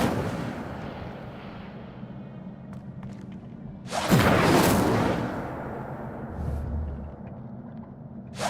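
A fire spell cast in the Hogwarts Legacy video game: a sudden loud whooshing burst of flame that roars for about a second and fades, over a steady low ambient rumble.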